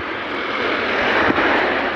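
A Hero Super Splendor BS6 motorcycle engine runs close by with a steady, dense roar that holds at an even level throughout, with one brief tick partway through.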